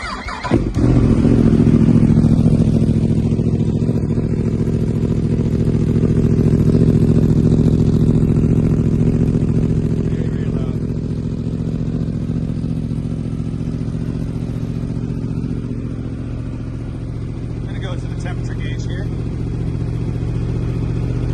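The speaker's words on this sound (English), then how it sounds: "You never really want to turn your bike on and turn it off until it warms up." A 2023 Yamaha R1 motorcycle engine fires up abruptly, then settles into a loud, steady, close idle that slowly eases in level, while someone talks over it.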